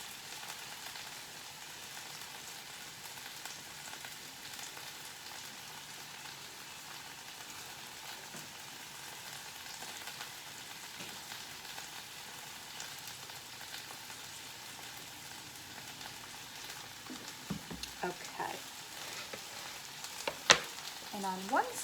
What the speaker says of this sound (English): So I am going to pour a little bit of olive oil on my bread